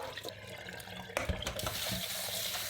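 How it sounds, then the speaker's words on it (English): Frozen chicken feet rinsed under running tap water for dim sum, a steady splashing hiss with a few knocks and clunks in the sink, close and continuous without talk. "First, wash it several times with clean water."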